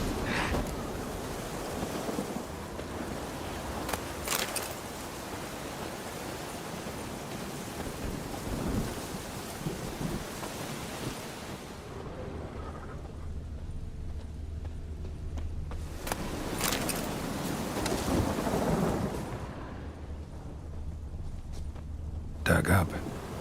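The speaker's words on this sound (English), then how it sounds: "A storm, damn it." A thunderstorm in The Witcher 3 video game: broad, rolling rumbles and rain-like noise swell and fade, with louder crashes near the start and again toward the end.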